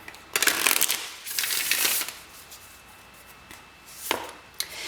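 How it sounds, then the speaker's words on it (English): Tarot cards being shuffled by hand in two quick, rustling bursts close up, then a short pause before a brief final riffle near the end. "One more shuffle."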